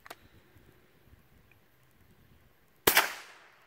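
A .22 caliber rifle fires once, a sharp, fairly muted crack with a short decaying tail that breaks a near-silent stretch, preceded by a faint click.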